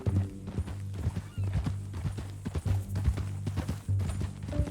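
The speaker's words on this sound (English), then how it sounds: "That new horse?" Hooves of a horse in Red Dead Redemption 2 clip-clop in a steady rhythm, close and clear, with a few whinnies and snorts mixed in over low background music and ambience.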